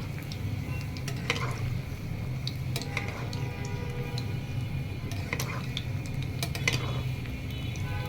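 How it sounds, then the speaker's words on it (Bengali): Nargis kebabs frying in a pan give a steady sizzle throughout, with occasional sharp clinks and scrapes of a utensil against the pan, close and moderately loud, with no talking. "এই যে আমি নার্গিস কাবাবগুলো ফ্রাই করে নিচ্ছি।"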